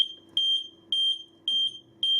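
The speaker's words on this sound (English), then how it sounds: "if there's a breach in that zone, it will set an alarm off" Loud, piercing electronic alarm tone from a security system sounder triggered by a zone breach, sounding in repeated bursts of about half a second, with short gaps between, alone with a faint hum underneath.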